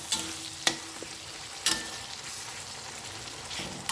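Ginger, garlic and spice masala being stir-fried for methi chicken, a constant close sizzle punctuated by several sharp scraping strokes of a spatula against the pan, no talking.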